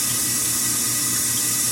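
Steady water rushing and splashing inside a KitchenAid Superba dishwasher, a continuous close hiss and churn with no breaks and no voices.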